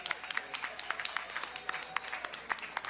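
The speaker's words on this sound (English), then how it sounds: "Please give them a round of applause." Steady applause from a crowd at the Calgary Stampede, many hands clapping continuously at moderate volume, a little distant.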